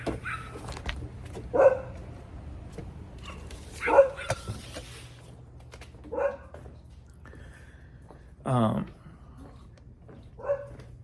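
Dogs bark in short, separate bursts, about five barks spaced a couple of seconds apart at moderate distance, heard between stretches of a person talking.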